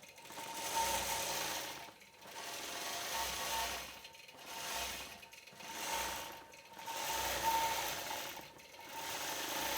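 A sewing machine stitches out a crosshatch quilt block in steady, repeating bursts, each about a second long with short pauses between, a constant mechanical whir at moderate volume with no voices.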